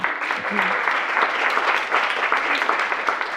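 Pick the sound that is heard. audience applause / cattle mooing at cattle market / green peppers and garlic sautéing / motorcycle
audience applause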